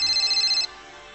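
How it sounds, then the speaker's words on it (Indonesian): A phone in the Real Gangster Crime video game gives a short electronic ringtone with a rapid pulsing trill that stops abruptly, leaving quiet background hum. "Kita tunggu telepon kah masuk."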